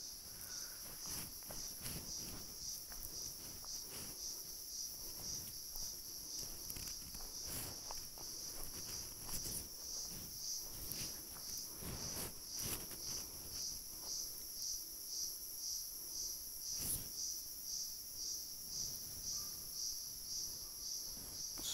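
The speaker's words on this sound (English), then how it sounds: "Cicadas overworking themselves out." Cicadas buzz steadily in a forest near Manila, a dense high-pitched drone with pulsing rhythm running unbroken throughout, with occasional faint footsteps or rustles beneath.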